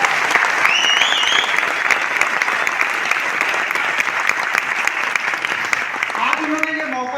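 A seminar audience breaks into loud, sustained applause for their teacher Santosh sir, dense clapping filling the hall from start to finish, with a few voices and cheers rising near the end.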